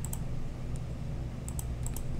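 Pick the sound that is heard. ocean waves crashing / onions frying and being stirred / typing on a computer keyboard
typing on a computer keyboard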